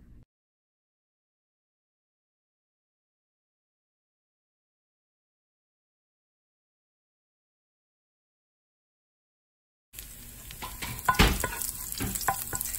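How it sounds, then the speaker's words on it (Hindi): Fresh garlic sautés in a little oil, arriving only after a long stretch of silence as a lively close sizzle with stirring clatter in the last few seconds. "फ्रेश गार्लिक को हमने थोड़े से ऑयल में सॉटे किया है"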